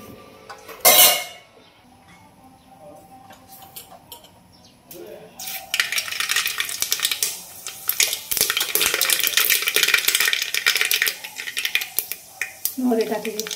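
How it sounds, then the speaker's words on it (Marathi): Mustard seeds, cumin, turmeric and spices tempering in hot oil: a loud, dense crackling sizzle erupts after a short quiet stretch with a brief clank near the start, then spits and pops steadily to the end. "मोहरी, जिरी, हळद आणि काही मसाले येतं ते टाकून घेते आता फोडणीला"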